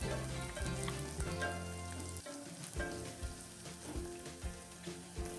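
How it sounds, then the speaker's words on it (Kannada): Onions and green chilies fry with rock salt in a pan, giving a loud, continuous sizzle broken by occasional stirring knocks. "ಸ್ವಲ್ಪ ಕಲರ್ ಚೇಂಜ್ ಆಗೋವರೆಗೆ ಫ್ರೈ ಮಾಡ್ತಾ ಹೋಗಿ"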